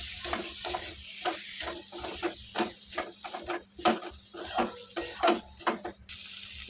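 Potatoes frying in a pan with chhena, cashews and raisins, stirred with quick repeated spatula scrapes over a soft sizzle, close by with no talking.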